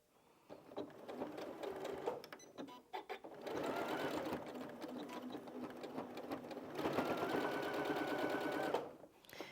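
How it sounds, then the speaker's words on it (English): A sewing machine stitches binding onto a quilt in fast rhythmic bursts, running steadily for several seconds at a time with short pauses between runs, close and moderately loud with no talk. "And then we're going to sew again."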